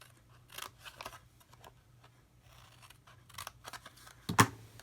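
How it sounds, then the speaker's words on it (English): Scissors snip through a paper card base along its score lines, giving a series of short, close crisp cuts that end in one louder, sharper snip, with no talking. "just cut up each of these score lines on the bottom"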